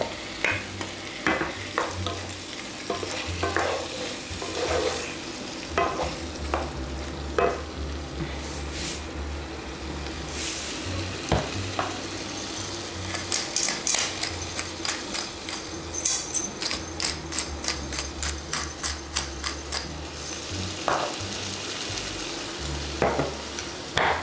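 Tomatoes fry in a pan with tomato paste and harissa, giving a steady sizzle broken by repeated scraping and stirring strokes and bursts of quick tapping as the mixture gets worked around, with no voices.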